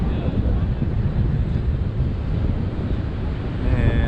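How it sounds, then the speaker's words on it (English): Extreme wind blowing outdoors during a small drone flight, a loud continuous roar and buffeting rumble battering the microphone without a break. "Now it's like the most extreme wind."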